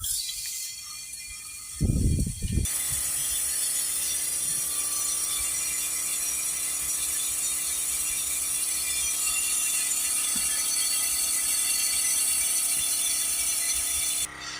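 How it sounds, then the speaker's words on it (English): A loud, continuous hiss of fluid sprayed through a compressor-fed air nozzle on a Ford Transit 2.2 RWD Mk8 runs for over ten seconds after a brief mechanical clatter, then cuts off abruptly. "it's connected there to the compressor, so we'll just spray it in now"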